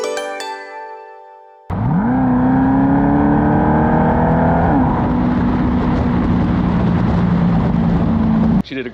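Rapid Blue Corvette convertible firing up after a short burst of music, its exhaust settling into a loud, steady rumbling idle close by until an abrupt cut.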